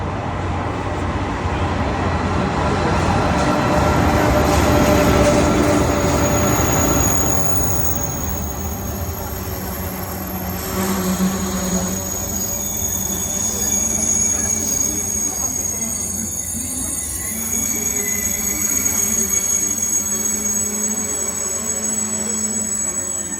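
Inside a moving train carriage in South Korea during winter, near Incheon: a steady rumbling ride with high metallic wheel squeal, loudest early on and continuing throughout, with no talking.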